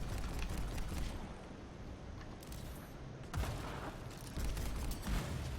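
Grenade blasts and gunfire in the video game Anthem: a dense, steady wash of rapid shots with heavier booming impacts surging near the middle and end, loud and continuous, no talk.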